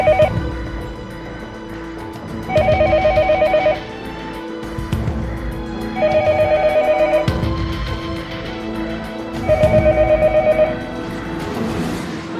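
A desk landline rings back while dialing a hospital department during a building lockdown: three evenly spaced bursts of bright electronic ringing, each about a second long, separated by quiet gaps over a low steady hum.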